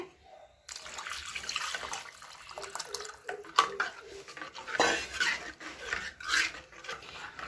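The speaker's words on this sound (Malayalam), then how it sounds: "ഇനി നമ്മൾ ചേർത്ത് കൊടുക്കാൻ പോകുന്നത് വാളംപുളിയുടെ വെള്ളമാണ് കേട്ടോ" Tamarind water pours and splashes into a metal pan of fish curry amid clinks of a spoon and stirring, close and moderately loud, with no talking.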